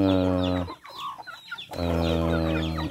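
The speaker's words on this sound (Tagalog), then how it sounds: "So yan po yung ating manok." Chickens cluck and call loudly up close, two long drawn-out calls separated by softer scattered clucks, with no talking.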